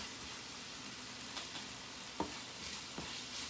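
Cooked sausage being stirred into a pot of shrimp and cheesy grits, giving a steady soft sizzling hiss with a few faint scraping stirs, close by and without talk.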